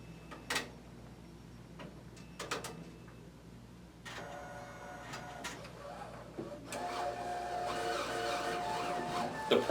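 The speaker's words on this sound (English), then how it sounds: "So now the print head is starting to move a little bit back and forth." Viper2 printer powering up with its print head starting to shuttle back and forth: scattered soft clicks and ticks, then a rising mechanical whir and hum toward the end, quiet and close.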